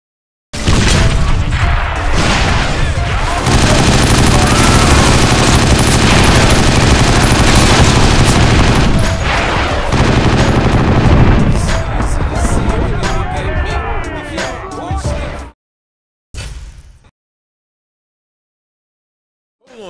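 Gunfire in the video game 50 Cent: Blood on the Sand, with rooftop enemies. Loud sustained bursts of automatic fire and booms run for about fifteen seconds, then break off into short bursts and silence.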